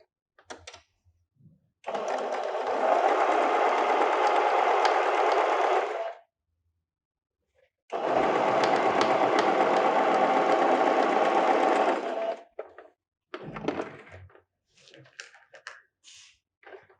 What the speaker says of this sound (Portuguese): vou lá e vou costurar novamente